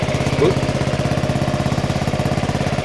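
Honda Forza 125 scooter engine catching and settling into a steady, close idle with a rapid even putter, after starter and alternator replacement.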